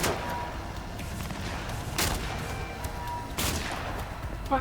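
Gunfire from a gun in the video game Cyberpunk 2077: a few sharp, widely spaced shots ring out over a steady, noisy background rumble, with no talking.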